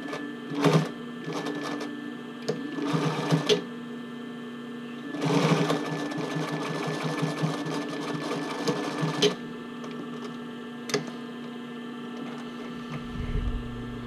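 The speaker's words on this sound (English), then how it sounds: "I'm going to sew this down." A sewing machine stitches down the waistband of a sports bra, several bursts of rapid mechanical needle chatter, with a longer run in the middle, separated by pauses over a low steady hum.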